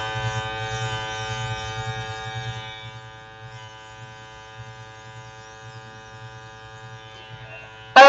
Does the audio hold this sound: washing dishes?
no